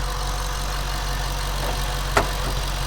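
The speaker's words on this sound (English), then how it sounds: "The blower definitely comes alive when you put your foot in it." A supercharged 2014 Ford Mustang Shelby GT500 V8 holds a steady, rumbling idle up close, with one short sharp burst near the end.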